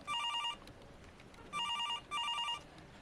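A desk telephone ringing indoors, three short bursts of bright electronic trilling with pauses between, fairly clear and close, no talk.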